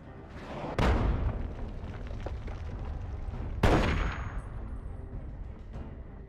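Two heavy, booming gunshots in Fallout 3, about three seconds apart, each with a long rumbling decay over a steady noisy backdrop.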